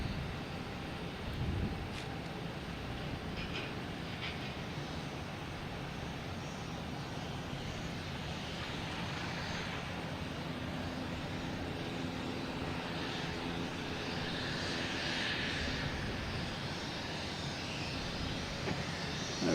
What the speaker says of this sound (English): We have American Airlines taking off. Heading to Charlotte. And an Airbus A320.